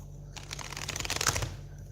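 Tarot cards are shuffled by hand in a brief, crisp riffling burst lasting about a second and a half, close and fairly quiet, with no talk over it.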